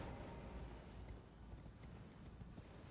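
Horse hooves clip-clop steadily in Elden Ring, a continuous quiet rhythm of hoofbeats over a dense low rumble of game sound, with no voices.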